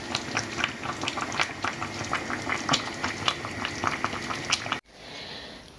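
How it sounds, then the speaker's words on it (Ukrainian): Varenyky dumplings boil in a pot of water, giving a continuous bubbling, gurgling rumble with quick popping bursts close by. The bubbling cuts off abruptly near the end, and a soft, steady hiss remains. No speech. "і варенички варяться"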